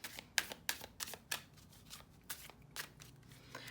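Tarot cards being shuffled by hand in a quiet room, a run of crisp riffling flicks and soft card slaps in uneven bursts, close and clear with no talking.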